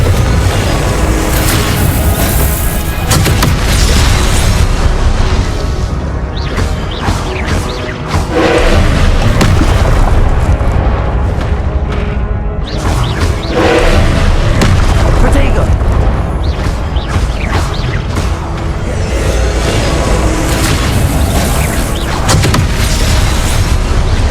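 Repeated booming Confringo blasting-spell explosions in Hogwarts Legacy, loud and dense throughout, with heavy low rumble and several sharp bursts standing out among continuous combat noise.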